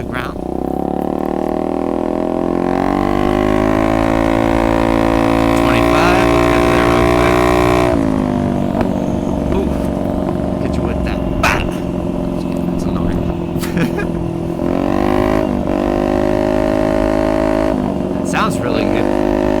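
A Honda Ruckus scooter with a Jennings exhaust runs with a throaty, buzzing engine note that revs up and settles repeatedly, loud and close, with a voice heard over it.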